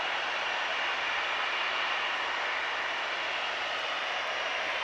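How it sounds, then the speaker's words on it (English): An EasyJet airliner taxis along the far taxiway at Manchester Airport, giving a steady, distant roar of jet engines with a broad hiss that holds level throughout, with no voices. "EasyJet's just taking the far taxiway just now."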